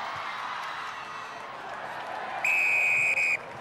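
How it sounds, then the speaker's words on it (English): A referee's whistle is blown for offside during a schools senior cup rugby final: one long, loud, shrill blast with a short break near its end rises over steady crowd noise. "Whistle giving offside."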